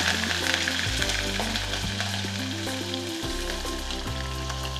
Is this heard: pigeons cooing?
no